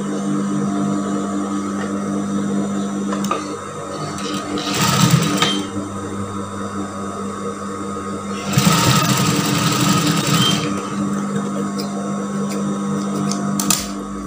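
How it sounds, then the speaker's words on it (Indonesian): Sewing machine stitching the drawstring channel of a brocade tunic with gathered sleeves, running in two loud bursts of steady motor whir between quieter stretches of a low idle hum. "sekarang kita jahit dulu untuk tempat talinya"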